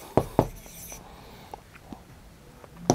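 Pen strokes scratch across paper as a maths equation is written out, a few sharp taps and short scrapes spaced unevenly, close and fairly faint, with soft murmured speech in the background.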